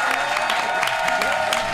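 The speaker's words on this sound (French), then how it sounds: "Tonnerre d'applaudissements pour Stéphane Carlo" Audience applause at a live stage event, a dense steady roar of clapping with some crowd noise that holds at an even level throughout.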